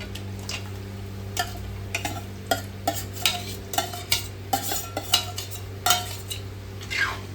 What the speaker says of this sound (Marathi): चिकन टाकल्यावर आपण याला मिक्स करून घेऊया.